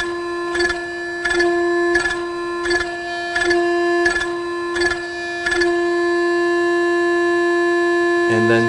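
Yaskawa Sigma 5 servo motor oscillating during auto tuning, giving a steady tonal whine with harmonics that pulses in a regular rhythm of about eight beats, then holds steady and continuous near the end.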